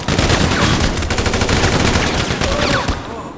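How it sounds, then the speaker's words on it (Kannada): Rapid, loud automatic gunfire rattles without a break during a bank robbery in GTA 5, with overlapping bursts from several guns. "ಹಿಂಗ್ ಹೊಡಿತಾ ಇದಾರೆ ಇಷ್ಟೊಂದ್ ಜನ"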